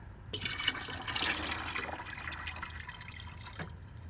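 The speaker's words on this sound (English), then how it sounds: "And then I'm going to add half a gallon of the muriatic acid." Muriatic acid poured into a watering pot of water, a steady splashing gush of liquid that begins abruptly and runs for about three seconds before tapering off.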